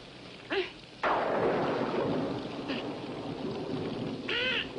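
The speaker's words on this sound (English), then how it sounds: "it's raining." Rain hissing steadily with a low roll of thunder starting abruptly and fading, plus a few short bird-like calls over the top.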